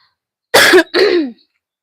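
Two quick, harsh throat-clearing coughs in a row, close and fairly loud, with a brief gap between them and silence around.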